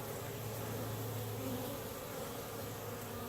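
Honey bees buzz steadily at a hive in November, a dense, continuous hum of many insects with no pauses, fairly close and even in loudness throughout.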